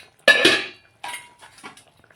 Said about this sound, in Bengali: কড়াইয়ের ঢাকনাটা খুলে